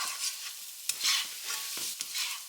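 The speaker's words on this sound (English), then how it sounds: "Stir your ramen around in that sauce to get it nice and coated." Ramen noodles are stirred through sauce with onions in a hot pan, giving soft, gritty scraping strokes over a light sizzle, close and fairly quiet.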